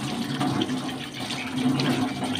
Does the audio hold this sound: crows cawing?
no